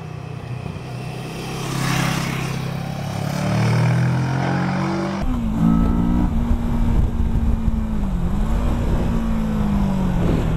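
A 2017 Kawasaki Versys 650 motorcycle engine hums steadily while riding, its pitch rising and falling with throttle changes, with wind rushing throughout.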